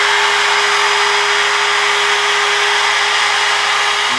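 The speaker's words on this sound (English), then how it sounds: "I used the router just to finish this. I recut that groove." A wood router recuts a groove in the cabinet of a 1936 Bush battery radio, giving a loud, steady high-pitched whine with a constant tone that runs unbroken to the end, with no voices.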